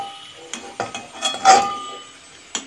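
Fried puffed snacks being lifted from a hot wok, a series of metal clinks and scrapes from a slotted spoon against the pan, sharp clatters spaced irregularly, close and clear with no voices.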